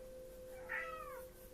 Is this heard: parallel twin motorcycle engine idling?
no